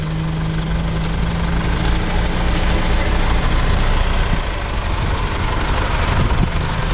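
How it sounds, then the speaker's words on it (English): A vehicle idles close by, its engine a loud, steady, low rumble with a faint knocking, as its tyre rolls over a coldmix pothole patch to press it down. "how easy it is to compact and how easy it is by just driving over it with the wheel of a tyre"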